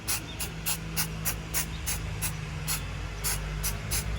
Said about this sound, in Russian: Надо хорошо встряхнуть баллончик и на расстоянии 25-30 сантиметров все